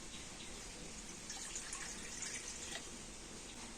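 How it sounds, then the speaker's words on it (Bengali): Water pours steadily into a kadai set on a lit stove, a continuous close splashing rush with no talk over it. "আর কড়াতে আমি দিয়ে দেব জল।"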